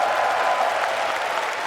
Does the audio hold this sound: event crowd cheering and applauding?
yes